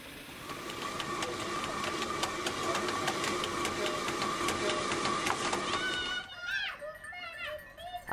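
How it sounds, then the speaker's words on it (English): A small water-powered mill grinding barley in a Tibetan village gives off a steady mechanical rattling hum that runs continuously for about six seconds and then gives way to a voice speaking. "Small mills are powered day and night to pulverize barley."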